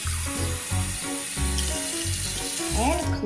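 Yellow water is shaken in a container and then poured out, giving a run of short splashing bursts followed by a trickling, gurgling flow, close and fairly quiet, with no talking.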